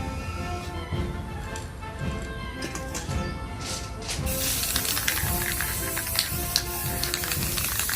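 Steady aerosol spray hissing as a light dust coat of army green paint goes onto the cork covering of an M1 Army helmet, growing louder and continuous partway through.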